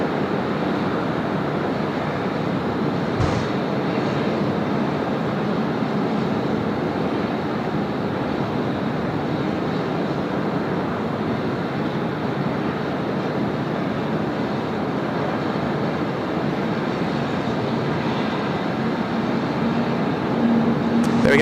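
A Malaysia Airlines jet arrives at Sydney Airport, its steady, broad engine roar loud and continuous throughout with no voices over it.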